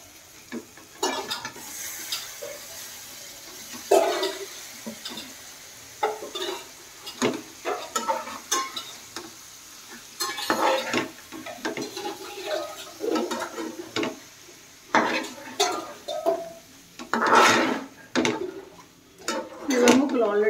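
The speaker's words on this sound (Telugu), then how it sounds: "ఇప్పుడు మనం కట్ చేసి పెట్టుకున్న లివర్ ముక్కలు వేసేసుకోవాలి వీటిలోకి." Chicken liver pieces go into a pan of onions fried with salt and chili and get stirred, with scraping spoon strokes, light sizzling and clinks of the pot in bursts over about twenty seconds.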